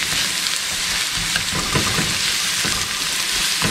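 Paprika and pepper being stirred into a sizzling pan mixture for Danang-style Vietnamese bun bo hue: a loud, dense, continuous sizzle with soft stirring scrapes, and no voices.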